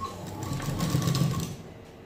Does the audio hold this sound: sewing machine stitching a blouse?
yes